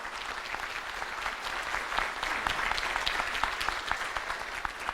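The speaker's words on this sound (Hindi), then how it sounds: "जोरदार ताली बजाई" A crowd at a motivational talk claps hard and keeps it going, sharp individual claps standing out against a dense, fairly soft background of applause that swells slightly midway.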